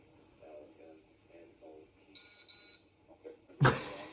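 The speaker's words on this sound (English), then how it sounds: "that beeping noise on the police officer's radio" A few soft spoken murmurs, then a rapid high electronic beeping pattern from a radio, followed by a sharp burst of static.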